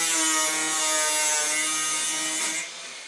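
Close, loud hand sawing through wood while making a homemade hole cutter, a continuous rasping buzz with a steady tone that eases off near the end.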